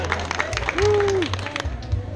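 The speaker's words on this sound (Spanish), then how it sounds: "Los que crean que va a ganar Guatemala, el aplauso." Street crowd in Guatemala claps in a quick burst of applause, mixed with voices and a whistle-like tone over a low hum.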